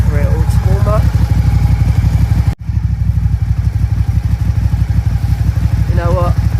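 A Suzuki SFV Gladius motorcycle engine idles steadily while warming up, with an even, close mechanical chug that runs throughout, briefly dropping out for a moment and coming back.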